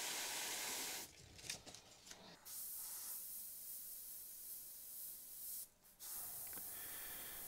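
An airbrush sprays House of Color paint in a steady close hiss, cutting off briefly a few times before resuming, over a black base coat prepped for a fire design.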